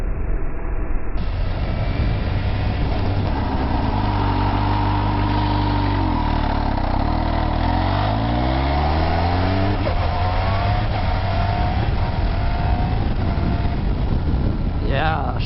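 A supercharged Kawasaki H2SX sport-tourer revs loudly while being ridden, its engine note rising and falling through gear changes over steady wind and road roar.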